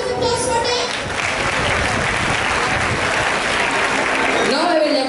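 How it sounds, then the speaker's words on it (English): Audience applause for quiz participants at a school English Week event, sustained loud clapping from a crowd lasting several seconds, with a voice briefly heard at the start and again as it ends. "Can we have a great round of applause for them?"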